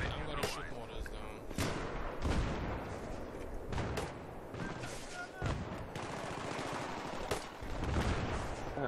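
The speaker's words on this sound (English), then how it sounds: "I'm gonna shoot mortars now." Mortars launching in Battlefield 3 amid dense combat: several heavy, punchy blasts spaced a second or two apart over continuous gunfire, with people talking over the noise.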